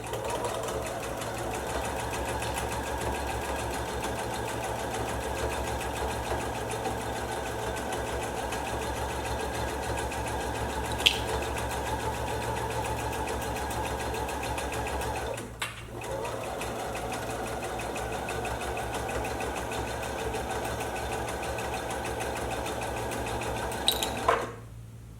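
A sewing machine runs steadily, stitching a seam on a fabric Christmas stocking, with a continuous motor hum and rapid needle rhythm, briefly pausing midway and stopping at the end.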